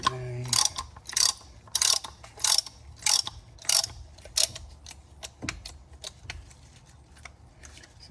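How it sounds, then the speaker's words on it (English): A hand ratchet clicks on the front brake bolts of a 2007 Mitsubishi Galant, a close, quick rhythmic run of bursts of pawl ticking that slows into scattered single clicks. "I've been using this kind of ratchet style."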